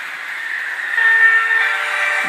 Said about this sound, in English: Every time he gets here, you'll hear the horn go.